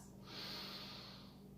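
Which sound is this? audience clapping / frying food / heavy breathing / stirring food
heavy breathing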